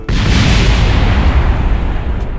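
A spacecraft in Kerbal Space Program slams into the desert and explodes, a sustained, loud, dense rumbling blast that rolls on for a couple of seconds with no voices over it.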